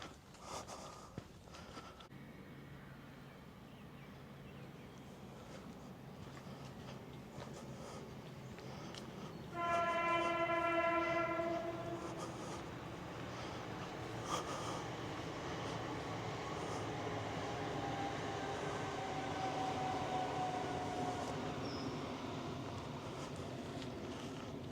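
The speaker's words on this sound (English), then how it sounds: "It looks like it's the Maidstone West to Paddock Wood train." A Maidstone West to Paddock Wood train passes at a distance beside an overgrown riverside path, a faint low rumble that builds with a brief tonal horn-like chord before fading into a steady rolling sound.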